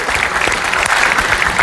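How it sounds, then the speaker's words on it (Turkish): A studio audience on a Turkish television show applauds for the New Year 2012 with steady, dense, loud clapping filling the whole moment. "tüm Türkiye'nin yeni yılını buradan bir kocaman kutlayıp bir alkışlayalım."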